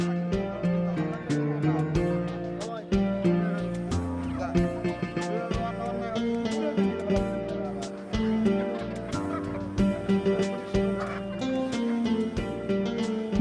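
A crowd of ducks and chickens at a busy rural poultry market in Bangladesh quacks and clucks continuously, dense and close, with people talking and bargaining among them.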